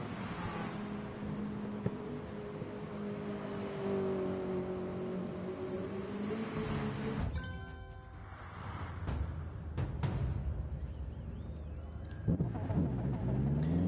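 A Gran Turismo Sport race car engine revs and drones with shifting pitch, loud and sustained for about seven seconds, then gives way to clicks, short bursts and lighter throttle blips.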